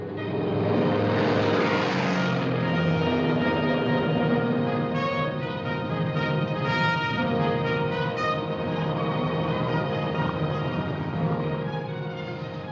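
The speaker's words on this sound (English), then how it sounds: "There's a big plane coming in behind us." A propeller airplane flies overhead in a 1949 serial, a loud, steady droning engine hum with layered buzzing tones that holds throughout, swelling slightly early on.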